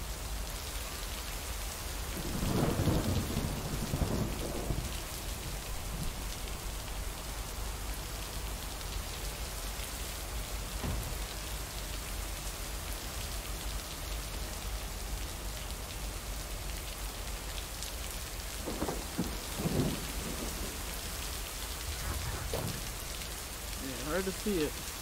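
Constant steady rain hisses throughout in the video game Lake, with a few brief low thumps and muffled voice-like bursts scattered under it; no clear thunder stands out.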